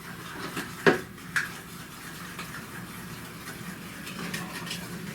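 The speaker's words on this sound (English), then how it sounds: "now I'm going to beat in the eggs." Eggs being stirred into warm cheesecake batter in a kitchen bowl, heard as soft scraping and clinks, with one sharp utensil knock near the start and a second lighter tap, over steady low room noise.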